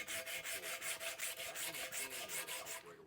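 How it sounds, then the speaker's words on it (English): Flat file wrapped in sand cloth stroked back and forth across an outboard motor lower unit, a steady rhythmic rasping of about fifteen even strokes, close and continuous with no speech. "So I like to take my flat file and sand cloth and go across the surface."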